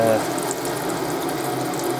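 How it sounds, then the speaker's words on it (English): Hot water running steadily from a tap in a 1999 Sterling Europa 500 EK caravan, a constant rushing hiss with a faint mechanical rattle underneath, air in the system. "That's the hot tap. I'll let this run a second"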